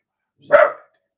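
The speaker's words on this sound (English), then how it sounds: "dogs do my head in" A dog lets out a single short, sharp bark, close by and loud against otherwise silent surroundings.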